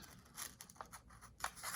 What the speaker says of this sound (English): you'll need to sort of poke your scissors